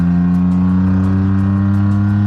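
A car fitted with Formula 1 tyres accelerates hard, its engine a loud, close, sustained tonal roar with strong steady harmonics throughout, heard alone without talk.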